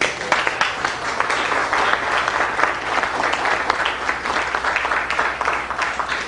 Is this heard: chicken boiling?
no